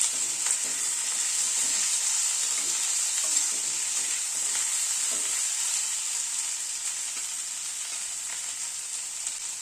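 Tomatoes and ginger frying in hot oil, a constant bright sizzle with faint stirring scrapes underneath, no talking.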